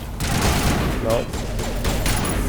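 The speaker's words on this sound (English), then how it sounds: "Such a satisfying sniper sound." Sniper rifle shots in the video game Mass Effect ring out amid dense combat noise, with sharp broadband cracks standing out over a continuous loud battle mix and some voices.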